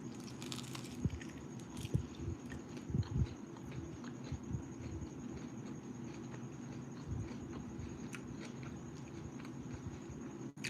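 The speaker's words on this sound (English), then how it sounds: "My bad to all the people that don't like chewing sounds." Late-night mukbang dinner eaten close to the mic, soft wet chewing and occasional crunchy bites spread unevenly over a steady background hiss.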